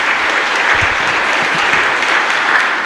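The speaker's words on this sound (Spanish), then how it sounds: "Fuerte aplauso para nuestra comunidad." A church congregation at a live Mass in the San Luis Gonzaga chapel in Luque claps loudly and continuously, a dense close wall of applause with no gaps.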